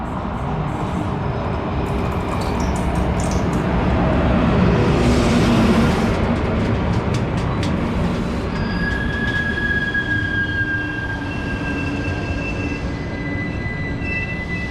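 Train pulling into a station platform on the Lisboa Santa Apolónia to Braga intercity service, a steady loud rumble of wheels and carriages with high metallic brake squeals rising as it slows, no talk.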